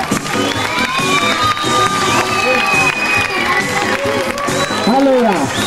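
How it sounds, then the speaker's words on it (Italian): An outdoor summer resort crowd at a mothers' beauty contest claps and cheers loudly, children shouting and voices calling out over continuous applause, with one shrill cry rising near the end. "Applauso a tutte queste nostre mamme."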